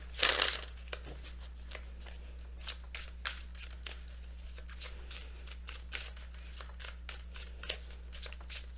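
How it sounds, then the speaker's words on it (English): Tarot cards are shuffled with a crisp riffle burst at the start, followed by quieter repeated card flicks and slides over a low steady hum. "Just one more shuffle"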